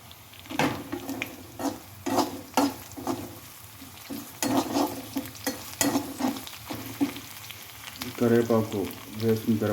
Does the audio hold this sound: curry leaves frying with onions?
yes